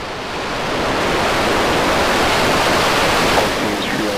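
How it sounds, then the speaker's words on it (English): SpaceX Starship SN10 rocket engines at liftoff, a loud, dense broadband roar that swells within the first second and then holds steady and powerful, with no voices over it. "We have liftoff."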